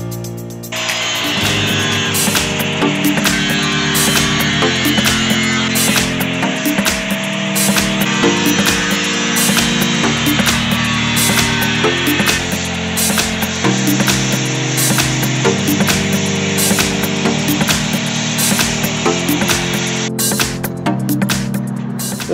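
Metal grinding or sawing cuts a piece out of an Early Bronco grill, producing a loud, steady, close-up whine with rhythmic strokes pulsing roughly every second or two and no talking.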